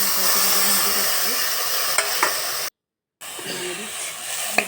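Ambadi greens stirred in a hot pan, giving a steady, close hissing sizzle with scraping movements that drops out briefly and then resumes, with a few sharp clicks of the spoon.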